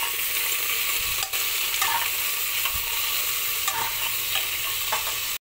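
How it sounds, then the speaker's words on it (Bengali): Ginger, garlic, onion and tomato fry in a pan for khichuri, a continuous close sizzle with occasional stirring clinks and scrapes before an abrupt cut at the end. "তো চলো সব কিছু আদা রসুন পেঁয়াজ টমেটোটা সুন্দর করে ভাজবো"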